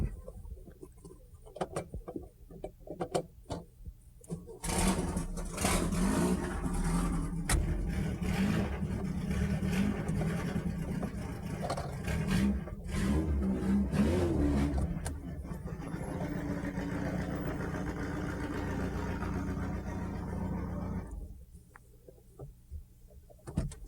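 A modified Volkswagen project car's engine starts and runs in a garage, a loud, close, steady mid-pitched drone that holds for many seconds before cutting off, with faint handling noises on either side.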